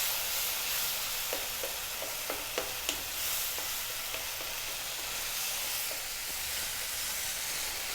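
Tomatoes cooking on high heat in a pan for a matar paneer, giving a steady, fairly quiet sizzle and hiss with a few soft clicks of stirring near the start, and nobody speaking.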